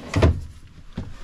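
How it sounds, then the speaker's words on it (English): A small pull-out drawer in the kitchen of a 2024 Lance 1172 truck camper slides and knocks shut with a short, close wooden clunk, followed by a fainter second bump about a second later. "Underneath that, we have this little pull-out drawer."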